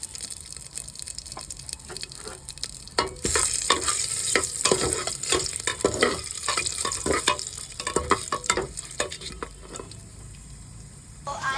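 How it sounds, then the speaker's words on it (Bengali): Cashews fry in a pan and are stirred, a soft sizzle broken by repeated scraping strokes and clattering stirs that grow busier midway, close and with no voices. "এটাকে ভালো করে ভেজে নিচ্ছি। এরপরে কাজু দিয়ে কাজু অ্যাড করছি।"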